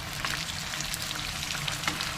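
Fish fries steadily in a pan on a gas stove, a dense continuous sizzle with small pops and no talking.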